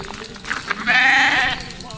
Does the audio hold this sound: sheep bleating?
yes